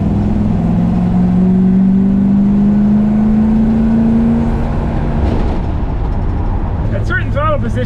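A Plymouth Fury engine with EFI runs steadily close by, a continuous drone carrying a slight whining tone like belt squeal, with someone talking over it.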